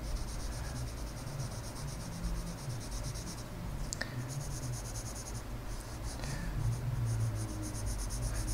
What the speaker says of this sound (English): I'm going to take a pencil and I'm going to fill in a checkerboard pattern on the grid.